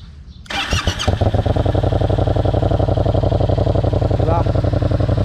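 A 2017 Yamaha MT-07 motorcycle cranks and fires up, then settles into a loud, close, steady idle with an even pulsing rhythm.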